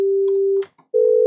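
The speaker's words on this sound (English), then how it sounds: "I have my sine wave preset" Sine wave synthesizer preset in Vital: a pure, steady electronic tone held for over half a second, a brief gap with faint clicks, then the tone returns at a similar pitch.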